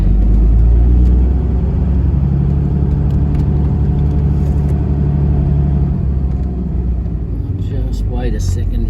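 Toyota Troopy with a 1HD-FTE diesel engine and 3-inch exhaust running on the road, a loud, steady low engine rumble and drone throughout, easing slightly near the end.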